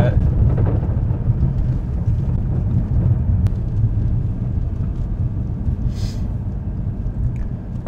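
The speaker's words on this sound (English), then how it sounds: "See how quickly we can accelerate." Inside a BMW all-wheel-drive car accelerating on snow, a low steady engine and road rumble drones at close range without pause and with no talking.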